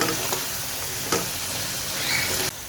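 A mutton karahi masala with coriander and salt is mixed in a hot pan. There is a continuous close-up sizzle with a few sharp scraping clinks of the utensil, and it cuts off abruptly at the end.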